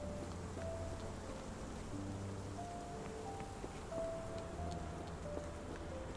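Steady rain falls in a Call of Cthulhu game, a continuous soft hiss and patter that fills the whole stretch at an even level, with faint tonal game sounds drifting over it.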